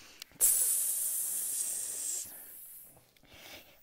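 A voice makes a steady, sustained hiss imitating someone peeing. It lasts about two seconds, then gives way to quiet.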